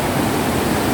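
A strong river current at Bhairabkunda in Assam rushes with a steady, loud, broadband roar like surf, continuous and unbroken with no voices.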